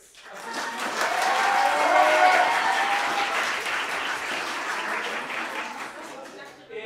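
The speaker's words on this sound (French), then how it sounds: "Si vous voulez Find Me in Paris, applaudissez" A live show audience claps steadily to vote for Find Me in Paris. The applause swells over the first couple of seconds, then holds as a full, sustained roar of many hands until it stops.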